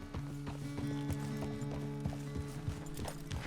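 Horse hooves clip-clopping at a steady walking rhythm in Red Dead Redemption 2, with a low tonal game score running steadily underneath and no talk over the hoofbeats.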